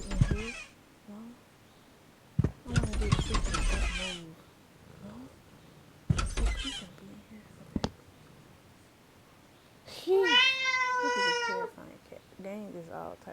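A cat meows indoors at home, a short rising-falling call near the end, heard apart from bursts of people talking and other scattered noises.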